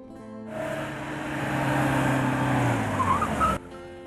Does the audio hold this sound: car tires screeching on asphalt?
yes